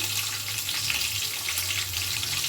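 Whole spices for bagara rice (bay leaf, cinnamon, cardamom, cloves and star anise) crackle and sizzle steadily in hot oil, close and continuous with no talking.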